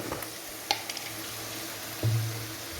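Onions fry in ghee with cumin, a soft, steady sizzle with a couple of sharp clinks and a brief stir or scrape near the end, all fairly quiet and close.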